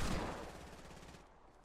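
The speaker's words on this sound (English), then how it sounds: "Now people know you're there because you shot that wall up." A short, fading burst of rapid gunfire in Fortnite as a wall gets shot up, a quick run of shots tapering off over under two seconds with no voices.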